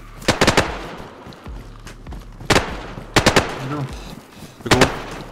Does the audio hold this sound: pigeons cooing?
no